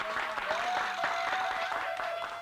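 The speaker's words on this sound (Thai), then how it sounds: "ขอเสียงปรบมือต้อนรับลาลิตาของเราครับ" A studio audience on a Thai variety talk show claps to welcome a guest, a moderately loud burst of applause with a whistle-like tone and a few voices mixed in over the clapping.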